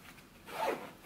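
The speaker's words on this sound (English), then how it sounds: "zip it up" Zipper being pulled closed around packed luggage, a single rasping zip that builds to a louder peak near the middle before easing off, close by with no talk.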